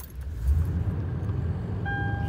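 A 2009-2013 Toyota Tundra with a newly replaced coolant temperature sensor, its engine turning over and catching into a steady low idle rumble, close by, with faint electronic chime tones near the end and no voices.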